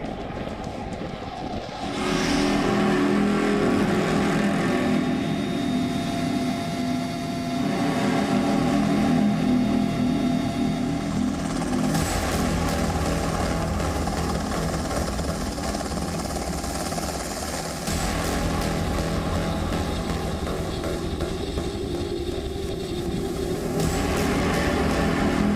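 Indian Air Force fighter jets and combat helicopters on a night exercise in Ladakh make a loud, sustained engine roar that swells and eases over a long stretch, with no voices.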